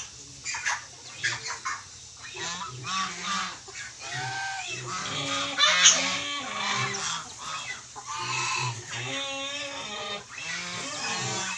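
Pet ducks on a farm in Iloilo quack and chatter continuously in a close, busy flock, with overlapping honking calls and occasional louder bursts.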